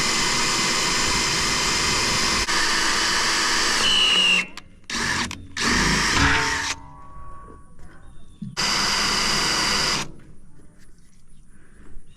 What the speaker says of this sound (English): we'll mark our holes for drilling.